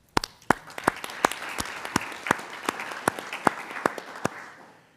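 Steady applause from a university board meeting audience, with sharp individual claps standing out over a continuous patter of many hands, moderately close and sustained throughout without speech.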